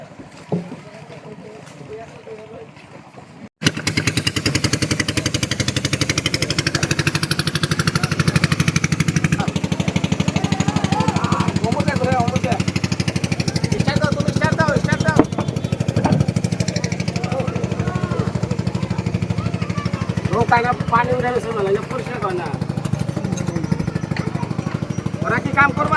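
A steady boat engine drones loudly and close on a river for most of the clip, with people shouting and talking intermittently over it.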